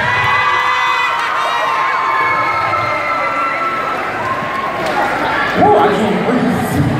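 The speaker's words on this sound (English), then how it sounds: "Let's give a stand to one more round of applause." A crowd at an outdoor summer kick-off event on Vine Street applauds and cheers in a dense, steady roar, with a speaker talking over it near the end.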